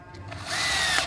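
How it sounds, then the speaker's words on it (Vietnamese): A Bosch three-function drill drives a screw: a brief rising electric motor whine that climbs in pitch and holds steady for under a second, close and fairly loud. "Đó là đối với con khoan khi mà bắt vít."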